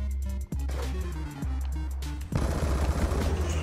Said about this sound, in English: I put a thousand bullets in you